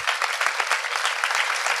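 Audience applause at a live French talk event, steady dense clapping from a crowd, loud and continuous without a break.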